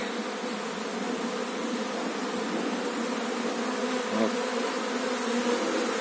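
Carpathian honey bees buzz continuously at an apiary, a dense, steady drone of many insects close by with no pauses.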